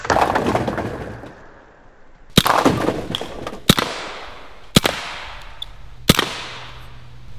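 BinTac S45 Mini shots fired into coconuts and a pineapple outdoors, several loud sharp cracks spaced a second or so apart, each with splattering impact noise and a trailing decay.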